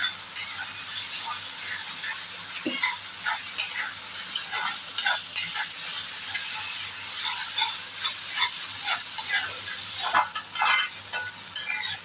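Ground coriander and pepper powder fry in a hot pan for thotakura liver fry, giving a steady bright sizzle with a scrape of stirring throughout.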